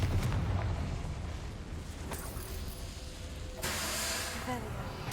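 A Confringo fire spell bursts in Hogwarts Legacy, with a sharp blast partway through and a louder, hissing eruption near the end, all over a constant game-noise background with voices.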